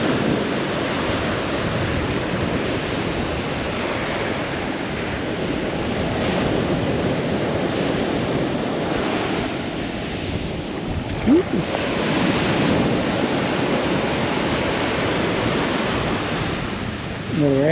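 Waves of Lake Superior breaking on a rocky agate-hunting shore, a steady, loud wash of surf with wind rumbling across the microphone.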